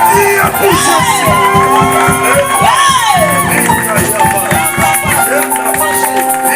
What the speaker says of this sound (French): Est-ce qu'on peut acclamer pour le Seigneur? Nous acclamons pour Jésus.